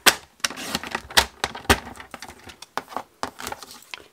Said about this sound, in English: So basically I'm just cutting it until I can get some nice flowers.